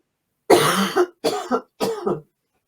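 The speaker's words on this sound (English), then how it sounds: "Excuse me, I'm going to cough." Three harsh coughs in a row, close and loud, each a quick burst followed by a short pause, with silence after.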